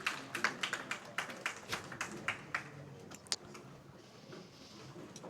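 Scattered audience claps at a women's professional bowling tournament in Nashville, a handful of sharp, uneven hand claps that thin out and fade, faint and distant.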